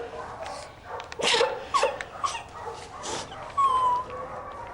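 A dog whimpers and whines in short, high, uneven bursts that recur across the moment, close and fairly soft, with faint room noise and no speech over it.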